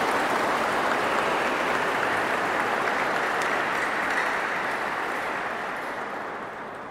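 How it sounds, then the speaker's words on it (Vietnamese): A church congregation applauds after a baptism ceremony, a loud sustained roar of many hands that holds steady and then slowly fades toward the end. "chia vui với các em bằng tràng pháo tay lớn."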